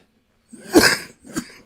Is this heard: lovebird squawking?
no